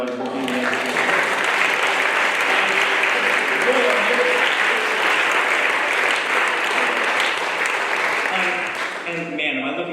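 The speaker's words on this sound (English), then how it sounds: "big round of applause to Don, everyone, for being there." Audience applause at an outdoor music festival on the green, a dense, steady wash of clapping and cheering that holds for the whole span before easing slightly at the end.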